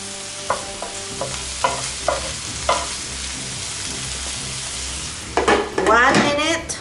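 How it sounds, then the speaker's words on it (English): A spoon scrapes and taps a pan of frying vegan food at an even pace, and then a loud, crackling sizzle swells up near the end. "Stir it, stir, give it a good stir."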